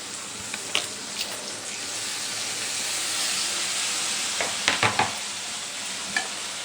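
Tomatoes frying in a pan for a mixed vegetable curry, a loud hissing sizzle that swells in the middle, with a cluster of stirring clacks and scrapes near the end.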